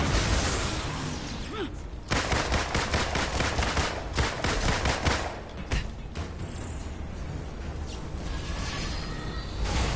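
Rapid bursts of gunfire in Marvel's Avengers during the Red Room Takeover event, loud and close, rattling in quick volleys with brief pauses between them.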